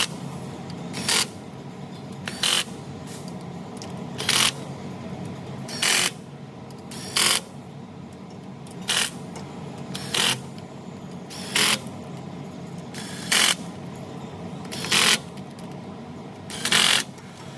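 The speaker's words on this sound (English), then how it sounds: "we're going to go ahead in a crisscross pattern with our gun, and we're just going to let it, you know, it's going to tighten these up" An impact gun runs down the rear differential cover bolts on a Ford Super Duty with a Dana M275/M300 axle, working in a crisscross pattern. About a dozen short, sharp rattling bursts come at steady intervals, each close and loud over a quiet garage background.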